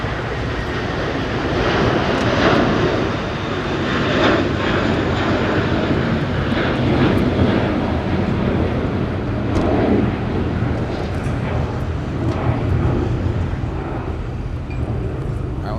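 An Air Tahiti Nui jet airliner departing Los Angeles gives a loud, continuous engine roar with gusty rumbling surges throughout, close and sustained, with no talking.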